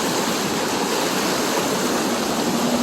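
Floodwater in a creek swollen after a storm rushes steadily past under a bridge, a constant loud hissing roar with no pauses.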